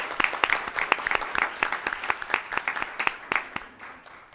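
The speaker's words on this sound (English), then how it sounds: "How about a round of applause for that?" An audience at an elementary school board meeting applauds a student award, giving dense rhythmic clapping from many hands that fades slightly toward the end.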